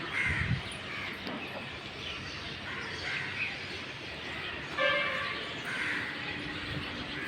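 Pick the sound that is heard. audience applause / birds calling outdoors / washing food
birds calling outdoors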